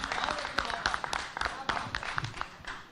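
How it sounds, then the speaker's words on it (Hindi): A crowded audience at a poetry event in Lucknow claps steadily, a dense patter of applause that runs under a speaking voice. "एक बार सब लोग तालियां बजा दीजिए"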